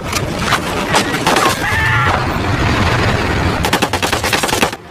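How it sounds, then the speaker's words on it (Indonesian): Sustained bursts of machine-gun fire, loud and close, rattling without pause in rapid overlapping volleys with no voices. "Mendengar suara tembakan yang terus-terusan"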